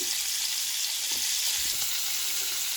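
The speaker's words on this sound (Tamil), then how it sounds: "இதை நாங்கள் ஹீட்டு நடுத்தர ஹீட்டிலேயே வச்சுக்கொண்டு மெதுவாக நாங்கள் பொறிச்சு எடுக்கிறோம்" Salmon pieces fry gently in a pan over medium heat, giving a constant, even sizzle up close with no voices and no stirring breaks.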